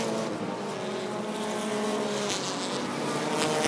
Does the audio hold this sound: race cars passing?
yes